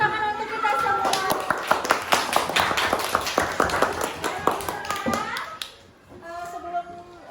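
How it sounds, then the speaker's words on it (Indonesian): Children and their teacher clap together in a classroom after a pop-up book lesson, with sharp, uneven hand claps over a few seconds mixed with young voices, tapering off before talking resumes. "Beri tepuk tangan untuk kita semua"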